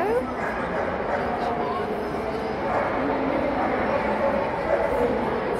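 Dogs bark and yip amid a busy indoor crowd at the Crufts dog show, with steady chatter and murmur throughout and scattered dog sounds mixed into the din.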